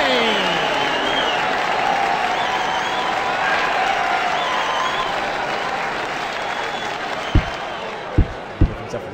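Steady applause from a virtual crowd in the PDC World Championship darts video game on Xbox, continuous and fairly loud, with commentary voices over it and a few sharp thuds near the end.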